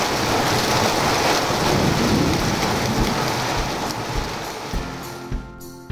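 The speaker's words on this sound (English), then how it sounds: "the rain set in for the day" Heavy rain pours down steadily on an island shore with a distant rumble of thunder, loud and dense before easing slightly toward the end as a few separate drops and knocks stand out.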